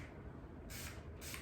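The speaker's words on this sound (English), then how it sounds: "So just spray it a little and then I run my fingers through it." Two short, faint hissing sprays from an aerosol can of hair product, one after the other, over a low background hum.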